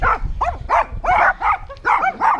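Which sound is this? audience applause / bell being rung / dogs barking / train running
dogs barking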